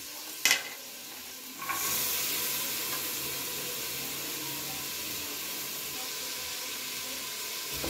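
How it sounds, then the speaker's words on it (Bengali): Mixed vegetables for pav bhaji frying in a pan with spices, a short clatter of stirring followed by a steady, loud, even sizzle that fills the rest, no one speaking. "ভালো করে এবারও আমি একটু এগুলো সব সবজিগুলো নাড়াচাড়া করে নেব"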